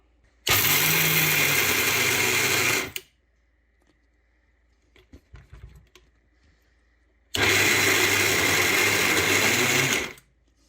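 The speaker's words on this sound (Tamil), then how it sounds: "கடலைப்பருப்பை அரைக்கும் போது நல்லா பட்டாக அரைக்கக்கூடாது" Two loud bursts of a blender coarsely grinding chana dal for Sri Lankan maasi vadai, each running about two and a half seconds, with a quiet pause and faint handling noises in between.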